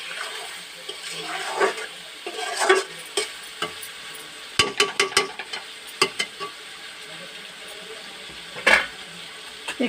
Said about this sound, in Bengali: দুধ দিয়ে দেব।